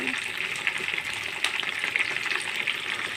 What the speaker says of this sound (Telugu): దాని తర్వాత నేను కరివేపాకు వేస్తున్నాను